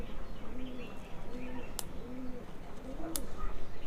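Domestic pigeons coo in repeated soft, low rolling calls close by while their wing feathers are trimmed with a cutting machine, with a couple of sharp clicks cutting in between the coos.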